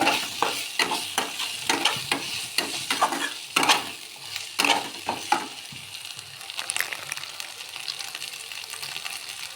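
Spice paste with ginger, cumin and a little sugar frying in a pan for prawn poppy seed curry, sizzling steadily under a rhythmic run of spatula scrapes that fades to a softer hiss.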